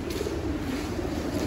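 Racing pigeons in a loft give a soft, continuous low cooing, close and steady throughout the short stretch, with no voices over it.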